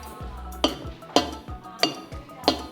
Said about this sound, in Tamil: நல்லா கீழேருந்து அப்படியே கிளறணும்.